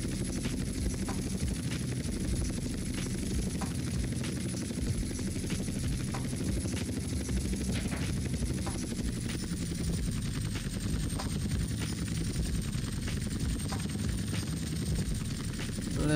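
An Apache attack helicopter's rotor drones steadily and close, with rapid bursts of gunfire cracking through at intervals, in the video game GTA San Andreas.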